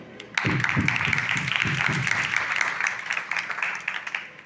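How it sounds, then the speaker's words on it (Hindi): Steady applause from a crowd fills the clip, starting abruptly and continuing at a fairly even level, with rhythmic clapping thumps early on. "एक बार उनके नाम पर जोरदार तालियां"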